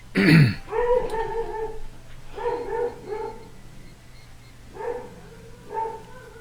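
A dog in a home studio where miniature figures are being painted gives a loud sharp yelp, followed by whiny, voice-like whimpers and groans in short bursts, fairly close and with no talk over it.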